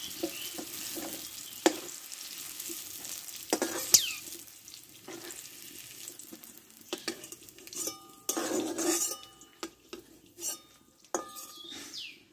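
Bitter gourd stir-fried in a pan, a soft sizzle under repeated sharp scrapes and clinks of a spatula against the metal, irregular strokes growing busier toward the end, close and fairly quiet.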